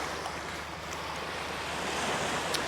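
Sea waves wash up over bare feet at the shoreline, a steady close rush of surf and foaming water mixed with wind noise, swelling slightly toward the end.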